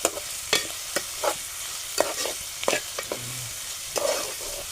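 Chopped onion sautéing in a pan over a low flame, a soft steady sizzle broken by a string of scraping stirs from a spatula at irregular intervals, close and alone.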